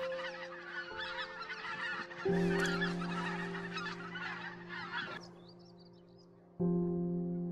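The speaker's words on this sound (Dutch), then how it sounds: "Meerdere keren per jaar vult ons luchtruim zich met groepen ganzen." A flock of geese, mostly greylag geese with some white-fronted geese, honks continuously in a dense, layered chorus that swells and drops, loud and close, with no talking.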